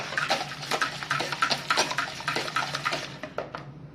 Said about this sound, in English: then whisk well